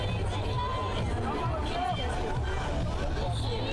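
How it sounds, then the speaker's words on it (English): Spectators at a schoolboy under-19 rugby match between Tygerberg HS and Parel Vallei, a steady murmur of crowd babble and chatter filling the space, with distant voices blending together throughout. "Crowd is building here nicely."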